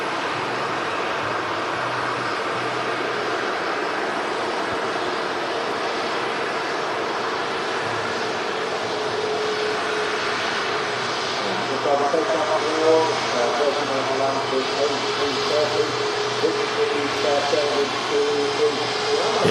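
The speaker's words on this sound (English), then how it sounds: "As we've got the Sun Express having priority on the taxiway here." A SunExpress Boeing 737-800 taxis at Manchester Airport, giving a steady jet engine whine that builds slightly louder toward the end, with someone talking over it.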